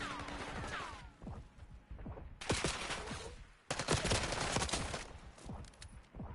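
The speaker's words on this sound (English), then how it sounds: "That's a lot of shots." Dense gunfire in the video game Black Ops 6 during a classic maps tournament, rapid overlapping bursts of automatic fire with brief lulls, loud and continuous throughout.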